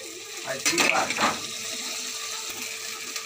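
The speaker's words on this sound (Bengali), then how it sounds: "তো মশলাটা আমি আদা রসুনটা দিয়ে একটু ভেজে নিলাম।" Onion with ginger garlic paste fries in a pan for egg curry, a steady close sizzle with a brief burst of stirring and pan clatter near the start.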